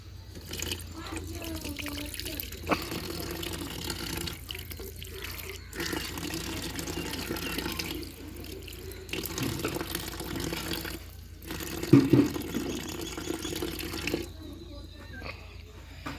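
Water sprinkled on newly planted rose plants splashes and trickles in uneven bursts, close by, with pauses between pours and a faint voice in the background.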